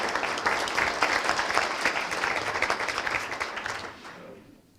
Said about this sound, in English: we need to give our mayor a round of applause for that kind of leadership